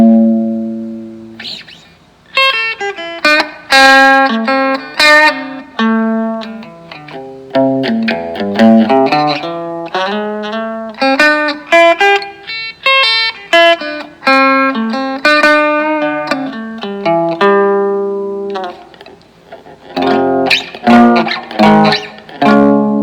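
Electric guitar played on the neck pickup through a Carvin SX200 amp with reverb, clear picked melodic lines and chords rising and falling across a long passage, with a short pause before a final strummed section.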